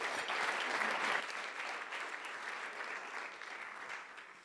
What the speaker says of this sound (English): big round of applause for our luncheon sponsor